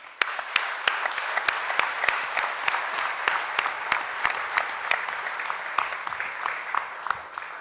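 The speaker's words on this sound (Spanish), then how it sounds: "creo que merecen un gran aplauso" Applause from an audience at the closing of a regional forum on victims in Villavicencio, with a modest crowd clapping and several sharp, distinct hand claps standing out over the softer clatter throughout.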